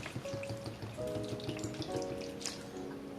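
Water poured onto garden plants to soak the soil, a steady splashing patter that keeps going throughout, close by, with no talking.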